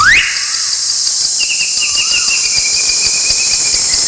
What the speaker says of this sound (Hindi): चिड़ियों की मधुरतम आवाज को सुनते हुए,